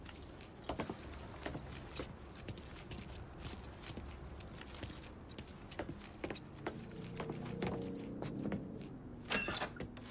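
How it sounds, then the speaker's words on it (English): Truck keys jangling in the video game Mafia 3; repeated sharp metallic clinks and rattles scattered through ten seconds, fairly close, over a low ambient background with a faint engine-like hum. "Hey, man, grab those keys."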